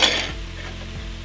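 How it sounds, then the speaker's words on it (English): Onions frying in a pan give a soft, steady sizzle for a second or so, with a utensil scraping and clinking against the pan near the start. "I will fry the onions until they are soft and brown"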